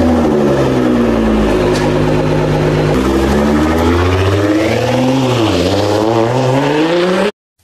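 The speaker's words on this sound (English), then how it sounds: "Sports car." A sports car engine revs loudly up close, first a steady low growl and then repeated rising and falling throttle swells, heard alone with no speech until it cuts off.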